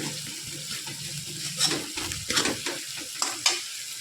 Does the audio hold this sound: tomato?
yes